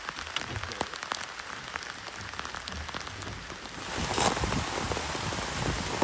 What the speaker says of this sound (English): it started to rain quite heavily